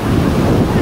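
Sea waves washing onto a beach near a temple, a loud, close rushing surf roar mixed with heavy wind buffeting the microphone, continuous with no speech.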